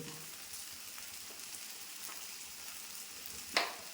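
Ground fennel, chili powder and coriander powder fry in a small amount of hot oil for an okra curry, giving a soft, steady sizzle close by, with one sharp clink of a utensil near the end.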